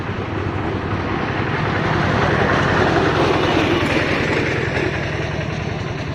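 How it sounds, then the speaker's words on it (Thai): Train passing close by near a station in Thailand, a broad continuous roar of engine and rolling wheels that swells and holds steady for several seconds, with no talking. "เดี๋ยวตามรถไฟมาครับ"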